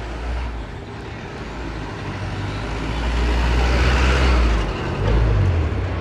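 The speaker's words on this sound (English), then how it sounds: "Bank car." A bank car (truck) passes on a city street near a bank at sunset with a loud, swelling engine rumble and hissing air brakes over continuous traffic noise.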